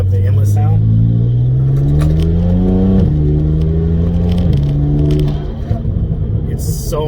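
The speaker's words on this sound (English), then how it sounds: "I'm gonna see if I can pick up the inlet sound." Intake roar from a BMW 335is accelerating, loud and close, rising in pitch through a gear then shifting up twice in quick succession before easing off into a lower rumble.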